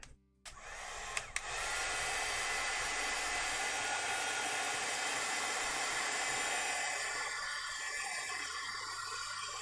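A hair dryer blasts steady airflow over freshly applied Gelatos art paint during a drawing session, starting abruptly after a couple of brief clicks and holding a loud, continuous rush for several seconds.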